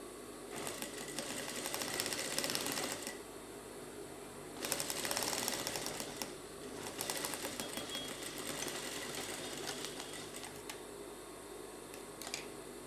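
A sewing machine stitches a trouser pocket in bursts: about two seconds of steady whirring, a pause, then a longer run of stitching with faint mechanical clicks, heard close with no voices.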